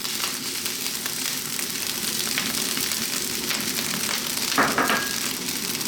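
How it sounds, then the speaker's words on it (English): Beaten eggs sizzle and fry in a pan set beside rice, a steady close crackling hiss with a brief louder spatter near the end. "now we're going to cook our egg"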